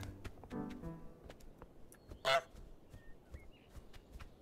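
Goose in Untitled Goose Game giving a loud, short honk that stands out from quiet background clicks and faint earlier calls.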